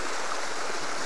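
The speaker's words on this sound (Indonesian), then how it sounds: "Tengok ni air terjun." Steady rushing splash of an artificial waterfall at a resort in Janda Baik, Pahang, a continuous close wash of falling water heard alone for about a second.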